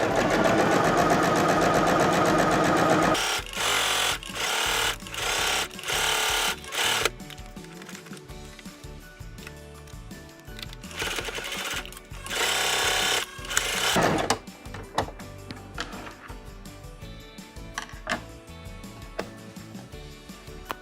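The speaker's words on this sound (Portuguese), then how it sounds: "Utilizamos lá o ponto overlock dessa máquina, dando assim segurança na junção entre o pano de copa e o barrado" Domestic sewing machine running an overlock stitch along the hem border of a cotton dish towel, with rapid loud mechanical bursts that start and stop, followed by quieter clicks and brief runs.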